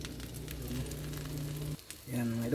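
Tortang talong, an eggplant omelette, frying in a pan with a steady close sizzle that cuts out briefly near the end and then resumes.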